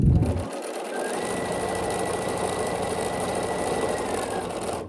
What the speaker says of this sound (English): then we'll sew across this next block